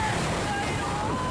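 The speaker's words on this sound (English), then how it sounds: "The rogue waves." Rogue ocean waves crashing against a sailing ship in a stormy sea, a loud, dense rush of surf and wind noise filling the short moment without a break.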